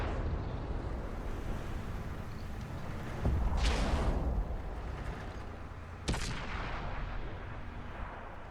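Tank cannon fire in World of Tanks, with a British Cromwell in battle: two heavy, booming shots several seconds apart over a constant rumbling engine and battlefield din.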